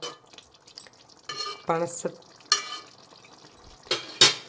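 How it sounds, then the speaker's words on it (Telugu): Jackfruit gravy being stirred in a pan, with scraping and clinking of a spoon against metal in short separate bursts, plus soft sizzling between strokes. "ఒకసారి కలిపేద్దాం"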